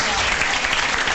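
Audience applause breaks out at a cramped local party headquarters during a Portuguese municipal election night, a steady dense wash of clapping that fills the whole moment, loud and close throughout.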